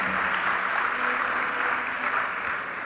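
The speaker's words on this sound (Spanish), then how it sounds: "démosle un fuerte aplauso al Señor" A church congregation claps loudly for the Lord during a sermon by Pastor Fredy Zuleta, a dense, even roar of applause that holds steady throughout and tapers slightly at the very end.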